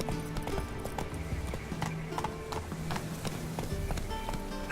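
Roach, a horse in The Witcher 3, gallops in a steady, rapid clip-clop of hooves at moderate distance, a continuous drumming rhythm with no talk over it.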